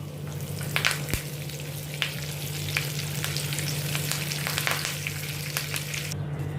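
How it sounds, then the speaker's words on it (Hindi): Curry leaves fry in hot oil in a pan with a steady crackling sizzle, close and continuous, broken by a few sharper pops and light stirring clatter, with no talking. "अभी इसी में मैं ये कड़ी पत्ते फ्राई कर लेती हूँ थोड़े।"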